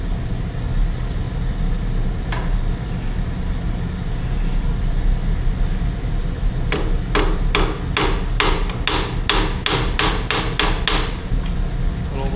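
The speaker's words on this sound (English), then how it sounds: "Little lead hammer action." A lead hammer strikes a John Deere JD410 extend-a-hoe backhoe cylinder in a quick series of about a dozen sharp metallic blows after a single earlier tap, all over a steady engine rumble.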